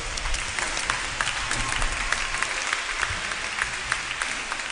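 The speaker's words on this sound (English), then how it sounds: "let's stand up and clap for Jesus" Children at a Lagos archdiocesan Mass stand and clap together, a dense, steady patter of many hands filling the whole stretch at moderate loudness with no clear voices over it.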